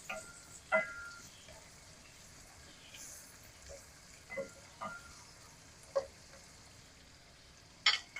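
Onions and garlic softening in a pan, a low faint sizzle with scattered clicks and scrapes of stirring at irregular intervals.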